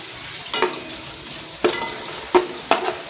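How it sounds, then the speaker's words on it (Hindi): Ginger and garlic fry in a pan for an egg kofta curry, a soft steady sizzle broken by four sharp stirring scrapes spaced about a second apart. "अदरक और लहसुन जो मैंने डाला है मैं कह रही हूँ कि अच्छी तरह हो जाए, अच्छे से फ्राई।"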